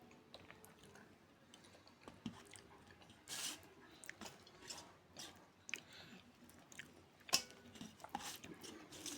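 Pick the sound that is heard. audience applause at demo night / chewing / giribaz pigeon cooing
chewing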